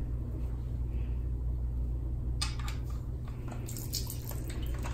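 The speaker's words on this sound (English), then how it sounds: "Makeup water coming out." Makeup-stained water draining from a tiny washing machine into a sink, a soft steady trickle with scattered drips and splashes that grow busier toward the end.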